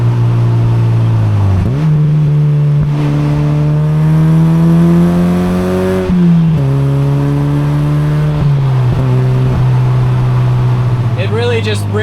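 A Mazda NC Miata with an aftermarket single-exit muffler drones steadily from inside the open-top cabin, its engine note rising and falling through gear changes and cruising revs.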